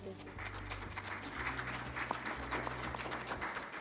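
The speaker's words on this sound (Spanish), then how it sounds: "Vamos a recibir con aplausos a nuestros ponentes." An audience claps steadily for a few seconds at a book presentation while voices carry on over the applause.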